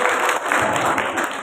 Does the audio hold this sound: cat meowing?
no